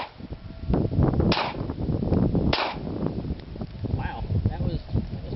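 Two sharp shots from a Glock pistol crack out about a second apart at an outdoor shooting range on a windy day, loud and close over steady wind buffeting.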